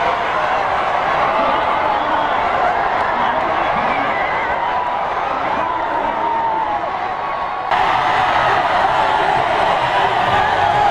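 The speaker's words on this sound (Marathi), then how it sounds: "यावेळी जोरदार जल्लोष करण्यात आला." A large crowd roars and cheers in celebration of a football league title win, a dense, loud, continuous wash of voices and shouts that swells slightly near the end.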